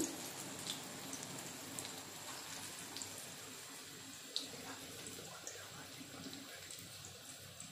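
Soft, steady rain patters continuously, with scattered drips landing on a surface nearby, quiet and even throughout.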